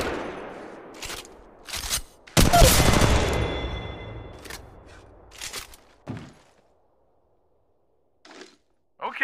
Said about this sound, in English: try the R301 and shoot him down